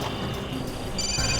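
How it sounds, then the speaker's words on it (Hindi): A phone rings from inside a parked car, the electronic ringtone tones muffled at first, then turning clearer and brighter toward the end, heard alone without talk. "फोन की घंटी अंदर ही बज रही"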